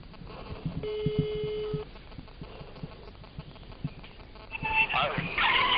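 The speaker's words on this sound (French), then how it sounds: "Ça sonne." A telephone call placed on speakerphone rings once, a steady electronic ring tone lasting about a second, over faint background noise and low voices.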